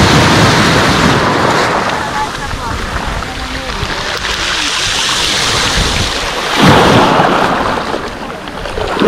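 Surf breaks and rushes continuously on the beach at Lazarevskoye, loud and close with wind noise on the microphone and a fresh surge near the end, while someone speaks over it.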